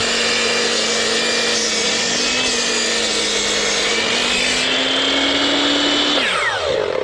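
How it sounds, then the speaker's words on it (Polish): A power saw cuts wood strips with a continuous loud whining buzz, then winds down as the blade slows near the end. "muszę naciąć wiele, wiele pasków"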